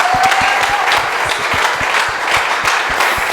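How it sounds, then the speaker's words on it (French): A church congregation at a healing and deliverance service applauds for the Lord, with steady rhythmic clapping from a large crowd that stays loud and continuous throughout, with no talk over it. "On acclame pour le Seigneur."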